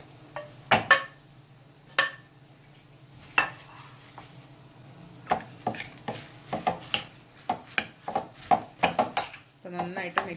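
Boondi being mixed with sugar syrup in a vessel for boondi ladoo, a series of irregular clinks and scrapes of a spoon against the metal pot, close and fairly loud, with a low steady hum underneath.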